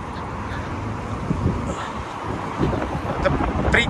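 Warm wind blows outdoors on the Kazan Kremlin embankment, buffeting the microphone with a steady low rumble that swells toward the end.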